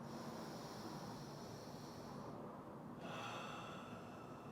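Slow, steady breathing during a yoga stretch, a soft continuous airy breath with a brief pause partway through, faint and close with no talking.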